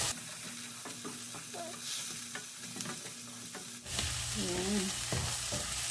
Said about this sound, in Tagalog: Lagyan natin ang butter. At igisa na natin ito.